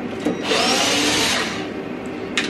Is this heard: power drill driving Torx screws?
yes